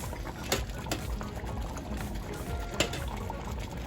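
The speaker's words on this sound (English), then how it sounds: "we're gonna let this continue to boil down" Turkey necks boiling in a pot of liquid, a dense steady bubbling and churning with a couple of sharper pops, close and continuous with no talk.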